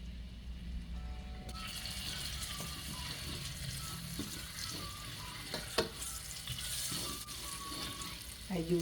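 Garlic, pepper and curry powder hit hot oil in a pan and fry with a steady sizzle and some bubbling, close by, broken up by a few sharp clinks and stirring scrapes, with no clear talking.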